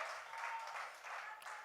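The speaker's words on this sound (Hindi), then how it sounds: "तो एक बार जोरदार तालियां हो जाएं" An audience at the Indian Idol 7 launch event claps in a steady, fairly faint burst of applause that holds for under two seconds.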